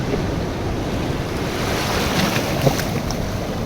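Steady roar of sea surf washing ashore on a rocky coast, a continuous wash of water noise with wind, one small splash or knock near the end, no voices.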